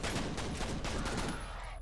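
Pistol fire in the shooter F.E.A.R. comes as a dense, loud burst of overlapping shots, a short sustained volley that eases slightly toward the end.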